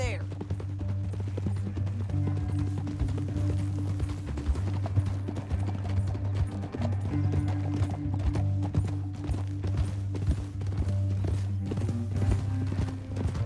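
Rapid hoofbeats of galloping horses in the video game Red Dead Redemption 2 drum continuously under a low rumbling music bed, loud and close, with a voice speaking over them.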